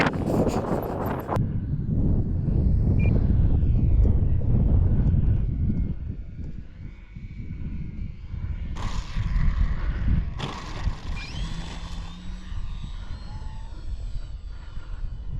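An E-Flite Valiant 1.3m electric RC plane is loud and close at first, then its motor whine fades as it flies off, with wind buffeting the microphone and a softer buzzing pass later on.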